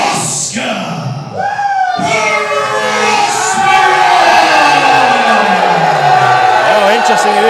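Crowd at a P.E.W. professional wrestling show cheering and whooping during ring introductions, a loud, sustained roar of many voices with scattered shouts and a rising swell that holds steady to the end.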